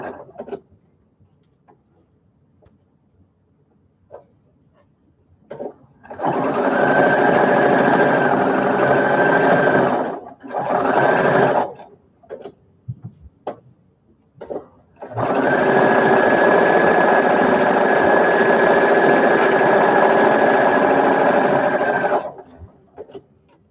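Sewing machine stitching along the edge of a baby taggie blanket, with three steady whirring runs, a long one, a short one and another long one, separated by quiet gaps with small clicks.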